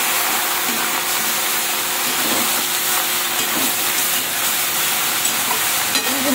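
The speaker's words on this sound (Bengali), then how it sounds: "তারপরে লাউটা দিয়ে একটু নেড়ে চেড়ে নিলাম" Bottle gourd being stirred in a pan with a fish head, likely bhetki, giving a loud, steady sizzle and hiss with soft scraping stirs throughout, close up and with no talking.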